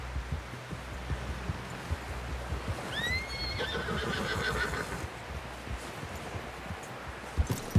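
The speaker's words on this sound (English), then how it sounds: "Someone help John down off this horse." A horse in Red Dead Redemption 2 whinnies once, a rising then falling neigh in the middle, over a steady noisy background with faint rustling.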